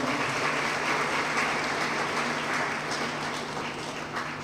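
A church congregation applauding, sustained loud clapping from many people throughout.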